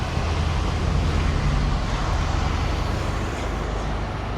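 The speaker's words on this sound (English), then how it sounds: "Sorry about the truck traffic, you're gonna hear it." Constant broadband rumble of heavy truck traffic passing on the road, loud and continuous, with no pauses or talking.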